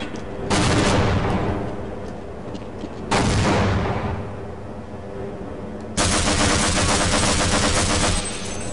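Machine gun fire in Half-Life roars out in three long, loud sustained bursts separated by short pauses, each a dense rattling blast close up.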